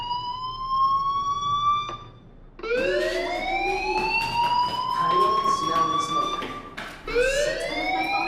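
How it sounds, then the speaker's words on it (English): In Life Is Strange, a fire alarm sounds, wailing electronic tones that rise and hold, loud and insistent, broken by a couple of short gaps, with a voice briefly heard. "Hey, do you hear that fire alarm?"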